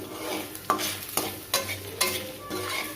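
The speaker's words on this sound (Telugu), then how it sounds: "ఇలా కలుపుకుంటూ వేపుకోవాలి" Coarsely crushed garlic cloves frying in a pan while being stirred, a steady sizzle broken by regular scraping strokes of a spoon roughly every half second, close and clear with no voices.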